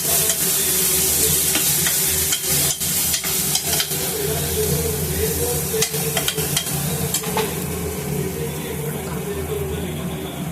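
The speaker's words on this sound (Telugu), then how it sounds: "ఇప్పుడు సాంబార్ కారం వేసుకోవాలి. మీకు ఎంతగా అంత వేసుకోవాలి." Sambar spice powder is stirred into a sizzling amaranth and tomato curry in a pan, a continuous loud frying hiss with repeated sharp scrapes and clinks of the spoon close by, and no talking.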